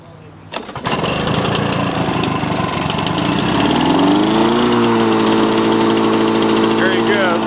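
A Lawnboy mower engine with a typical choke system fires up with a sharp start and settles into a loud, steady run that smooths out and holds even, without missing or surging.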